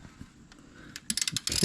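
Ratchet with a 1/2-inch socket loosening a hot oil drain plug, a quiet lead-in followed by a quick run of close, sharp clicking bursts near the end.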